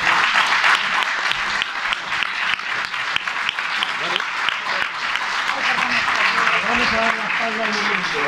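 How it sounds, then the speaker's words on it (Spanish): Audience applause at a children's rights and shared custody talk in Alcobendas, steady dense clapping for several seconds with people talking over it. "Un aplauso para ellos."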